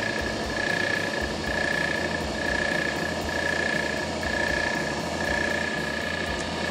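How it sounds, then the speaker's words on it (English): Wood lathe running at about 2650 RPM, a steady, close mechanical hum and whine with a constant high tone and a gently pulsing low drone throughout, with no other sounds. "I'll go ahead and spin up the lathe"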